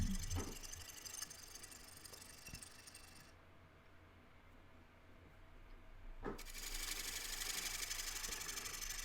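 A wood lathe turning down the tenon on the foot of a bowl, with steady scraping and cutting noise that fades quieter midway and then returns louder, continuous and close by.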